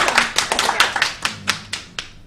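A short run of hand claps, about eight sharp slaps spaced unevenly and fading toward the end, welcoming a guest during a Shenmue 3 Kickstarter final countdown livestream.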